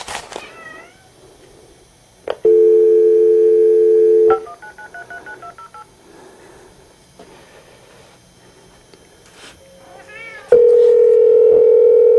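A steady telephone dial tone hums for about two seconds, followed by a quick run of keypad beeps, then the tone returns; a cat meows at the start.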